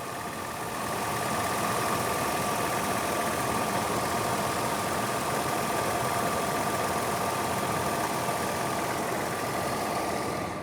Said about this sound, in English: let's just listen to this idle for 1 second